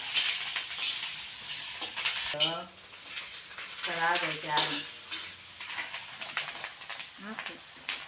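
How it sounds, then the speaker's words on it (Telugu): Tomatoes frying lightly in a pan, a steady soft sizzle running throughout with occasional stirring scrapes, while someone talks over it. "టమాటాలు కూడా ఫ్రై అయినాయి మరీ ఎక్కువ ఫ్రై చేయను నేను కాస్తంత లైట్గా ఫ్రై చేసి"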